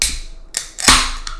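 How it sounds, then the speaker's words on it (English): A can of OEC Brewing Citrango beer is cracked open, giving a few sharp close clicks followed by a hissing release of gas, loud and alone. "Pop the top like a drop top"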